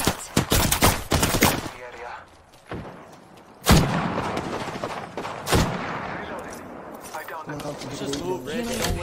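Gunfire in a first-person shooter game with portals and shields: several sharp, loud shots, spaced irregularly, with one heavy blast near the middle, mixed with close voices talking over the action.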